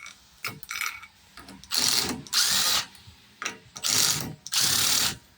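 Ratchet wrench spinning out the sump bolts on a Briggs engine, close clicking bursts in four or five loud runs of a second or so, with short quiet gaps between them.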